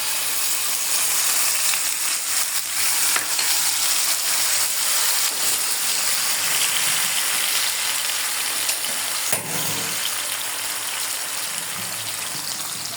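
Onion and garlic paste frying in hot oil, a steady close crackling sizzle with occasional stirring scrapes, continuous throughout.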